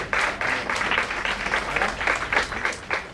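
Audience applause at a Women's Day celebration during a memento presentation, moderate clapping from a modest crowd with uneven rhythmic swells throughout.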